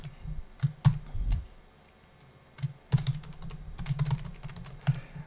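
Bursts of keystrokes on a computer keyboard while code is being written, quick irregular clicks in clusters with a short pause in the middle, close and fairly quiet.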